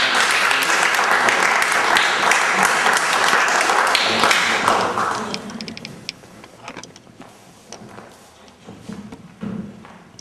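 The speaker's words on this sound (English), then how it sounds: "Applause." Applause from an audience at a Cyprus flag-raising event in a theatre: loud, dense clapping for about five seconds, then tapering off into scattered claps and thuds.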